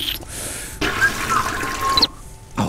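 Water drawn from a water supply in the video game Deponia 2, a splashing, trickling burst of a little over a second between quieter stretches, followed by a short final splash.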